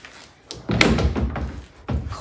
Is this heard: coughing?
no